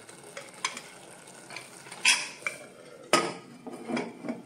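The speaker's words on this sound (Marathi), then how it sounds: "आणि आता याला झाकण लावायचं आहे।" A metal lid set onto a pot of eggplant rice, with a few sharp clanks and clatters over faint sizzling, near and fairly quiet with no talk.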